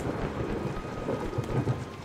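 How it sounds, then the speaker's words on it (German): Steady rain with low rumbling thunder in the video game Kubifaktorium, a continuous wash of falling rain at even loudness throughout. "Ja, schau mal, es regnet."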